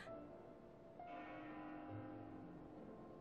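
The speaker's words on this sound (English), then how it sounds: "That bell sound must be coming from somewhere." Bell ringing in the Xenoblade Chronicles 2 video game, a steady sustained tone swelling slightly over a low ambient game background, with no voices.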